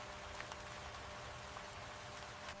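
Rain falls over a wetland in a steady, soft, even hiss with scattered faint droplet taps and no voices.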